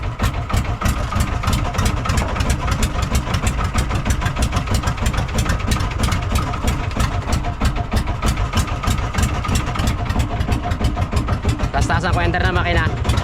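A loud boat engine drones continuously with a rapid, steady throb while trolling for fish in Palawan, running without a break throughout.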